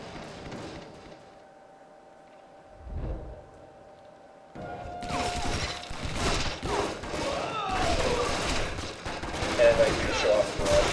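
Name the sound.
Spaz 12 automatic shotgun firing in Stranglehold video game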